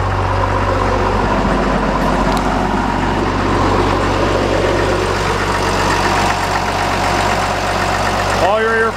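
2008 Caterpillar 930G wheel loader engine running at a steady idle, a loud, continuous low rumble close by, with someone speaking over it.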